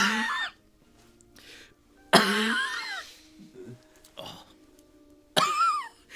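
A voice imitates a hobgoblin hacking and coughing hard, three loud raspy throat-tearing bursts separated by quieter gaps with faint throat noises.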